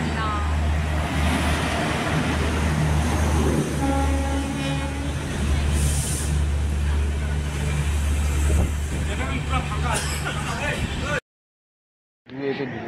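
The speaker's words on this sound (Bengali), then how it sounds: "এখন কিন্তু জগন্নাথ এক্সপ্রেস ঢুকে গেল প্ল্যাটফর্মে" Jagannath Express pulling into a station platform, a loud continuous rumble of rolling coaches with a horn-like tone midway, under talk and station noise.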